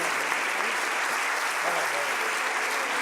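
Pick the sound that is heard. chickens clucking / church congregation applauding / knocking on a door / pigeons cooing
church congregation applauding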